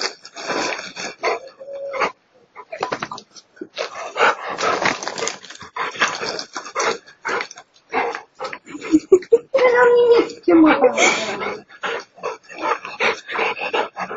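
A dog being teased with a French fry and a stick whimpers and yips in short, broken bursts on and off for about fourteen seconds, with people talking intermittently nearby.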